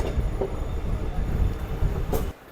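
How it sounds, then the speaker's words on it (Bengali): Kanchanjungha Express train rounding a left curve before New Farakka Junction, a close rolling rumble with faint wheel squeals breaking through, then dropping off abruptly at the end. "এই নিউ ফারাক্কা জংশন ঢোকার আগে ট্রেনটা বাঁদিকে কাপ নিচ্ছে"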